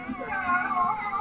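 A cat enemy from Final Fantasy V gives a short, wavering, yowling cry, like a synthesized caterwaul. It is brief, moderately loud and heard on its own.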